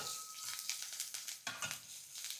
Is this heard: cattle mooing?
no